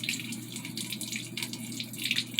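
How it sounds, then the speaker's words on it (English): Condensate water pours from an air conditioner evaporator drain in a close, steady trickling splash with small bubbling drips, continuous and fairly quiet over a low hum. "as the water pours out of there, it basically just goes into this"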